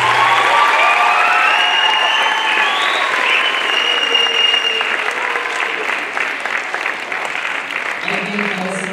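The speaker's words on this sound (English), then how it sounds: "Let us clap for them once again." An audience at a junior high school play applauds loudly and continuously, dense clapping from a large crowd that fades slightly toward the end, with a voice briefly audible.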